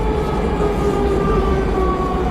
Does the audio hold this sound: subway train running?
yes